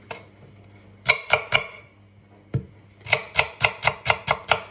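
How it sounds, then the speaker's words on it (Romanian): A knife chops onion finely on a cutting board: three quick close thuds, a pause, one more, then a steady run of about seven sharp rhythmic chops, with no talk. "Îmi tai ceapa măruntă."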